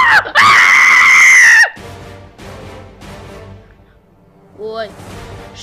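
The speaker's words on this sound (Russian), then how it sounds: "Ой, что за крики?" A high, shrill cartoon scream rings out loud and sustained for over a second, then breaks off into quieter dialogue-like voices with a brief squeak near the end.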